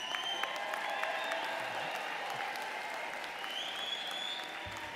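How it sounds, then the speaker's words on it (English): At a spring commencement of a college of medicine, a large audience claps steadily and densely, filling the hall with sustained applause and scattered cheers. "family and friends, if we have such a great class, they would clap more loudly, they would cheer more loudly"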